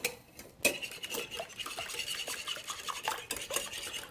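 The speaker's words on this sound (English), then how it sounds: "We're gonna whisk those up." Four whole eggs are whisked in a bowl for batter, giving a quick, continuous metallic clatter of whisk against bowl after a brief pause, close and moderately loud.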